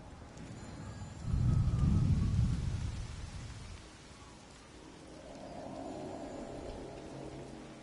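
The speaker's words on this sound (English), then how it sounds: "And now it's raining." Rain and thunder in the video game Everybody's Gone to the Rapture: a low rolling thunder swell rises and fades, then steady rain patter continues at moderate volume.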